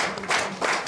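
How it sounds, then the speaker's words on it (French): Brief burst of audience applause for a guest on a talk show set, a dense wash of clapping swelling twice in under a second. "on t'applaudit bien fort"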